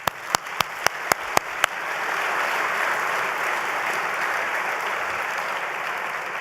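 A crowd at a highway express lanes project ceremony breaks into sustained applause after a few sharp lone claps, a broad steady wash of many hands clapping with no talk over it.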